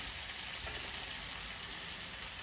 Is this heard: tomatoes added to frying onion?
yes